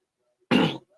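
A single short cough or throat clear from someone commentator during a live football watch-along, close and fairly loud, lasting about a third of a second.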